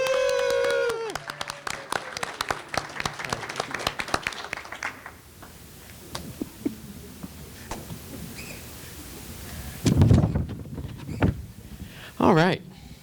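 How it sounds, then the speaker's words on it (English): A small round of applause for Ashlyn Smith at a town meeting in Indian Head, with scattered, sparse claps over the first few seconds, then quieter room noise, occasional knocks and people talking. "give Ashlyn Smith a round of applause"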